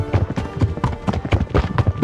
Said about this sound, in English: Those are some loud horses, jeez.